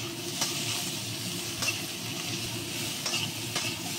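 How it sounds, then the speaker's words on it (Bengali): Jackfruit seeds and potatoes stir-fry in a pan, a continuous close sizzle punctuated by a few sharp scrapes and clinks of the spatula. "এবার আমি কাঁঠাল দানাগুলো দিয়ে নিচ্ছি, সব কিছু ভাজবো একসঙ্গে।"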